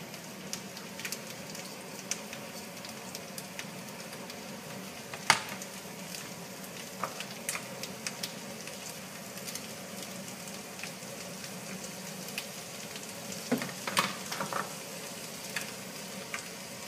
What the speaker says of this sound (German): dann wird das Ganze etwa 5 bis 10 Minuten so angedünstet.